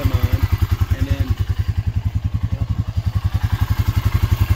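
Honda Rancher ATV engine idling with its headlights switched on, a close, loud, steady chugging putter with regular rapid pulses and light mechanical clatter, running alone without talk.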